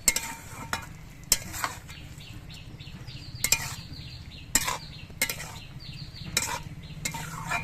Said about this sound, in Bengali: নেড়ে চেড়ে কালো জিরে বাটাটা মিশিয়ে দিচ্ছি